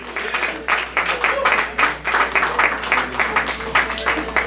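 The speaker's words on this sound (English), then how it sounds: "Let's give another round of applause" An open mic audience applauds in steady, dense clapping that swells and dips, with a voice talking over it.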